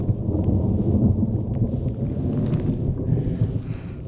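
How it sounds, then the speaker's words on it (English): Steady rain pours on a Montana mountain hillside, a dense, continuous hiss with low rumbling wind buffeting the microphone throughout, fairly loud and close, with no voices. "it's raining"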